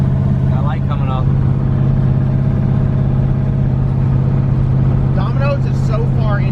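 LS-swapped twin-turbo Fox Body car driving on slicks, a steady loud low engine drone and road rumble throughout, with people talking over it inside the cabin.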